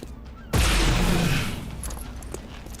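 A single loud pistol shot fired in the turn-based strategy game XCOM 2: War of the Chosen: a sharp, booming crack that rings out and slowly decays over a low background hum.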